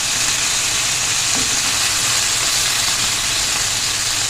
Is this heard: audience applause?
no